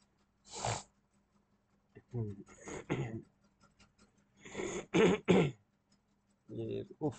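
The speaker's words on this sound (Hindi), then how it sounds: "ये खांसी" A person coughs and clears their throat several times in short harsh bursts, close and loud, with quiet pauses between the fits.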